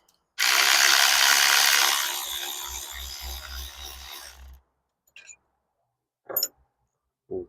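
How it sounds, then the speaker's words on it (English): An alternator bolt on a 2.0T FSI engine is cracked loose with a ratchet, giving a loud burst of broadband noise that fades into a rapid run of ratcheting clicks, then a few isolated short knocks, close by. "So let's crack these bolts off and see what happens."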